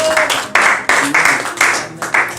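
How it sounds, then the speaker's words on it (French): Rhythmic congregational clapping in unison at an evening French-language church service, a loud close beat repeating about every third of a second as a preacher approaches. "nous l'encourageons avec les acclamations"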